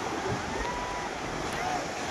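Sea waves wash on a beach in a steady broadband surf rush, mixed with wind buffeting the microphone, continuous and moderately loud with no clear individual breakers.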